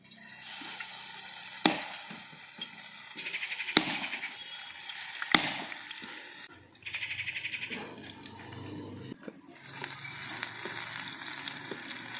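Pieces of paneer satay sizzling as they go one by one into hot white oil in a pan over a clay stove, steady frying hiss with sharp clicks as each piece drops in, a brief lull near the end.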